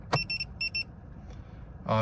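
Two short pairs of electronic beeping tones from a P24 OBD2 car heads-up display alarm, close and clear, followed by a brief rustle and a voice starting at the end.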